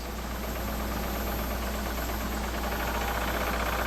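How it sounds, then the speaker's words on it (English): A wood lathe spins a dowel rod with a steady, even mechanical drone and faint rattling vibration, constant from start to finish, with no voices. "I've got it chucked up in my lathe here, and we're just going to kick it on"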